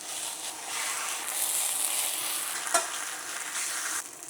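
Tortilla sizzling and frying in hot oil in a pan after a flip, a steady loud hiss with crackling texture and a brief sharp clink near the end.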